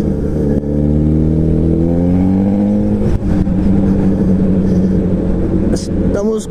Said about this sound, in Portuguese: Estamos com a motoca sem a ponteira Yoshimura. É muito barulho, galera